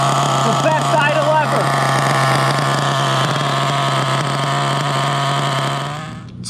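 An HPI Savage X 4.6 nitro RC truck engine idles rich, a loud, close, steady buzzing drone with a brief wavering warble near the start, holding even before the revs sag and it cuts out at the end.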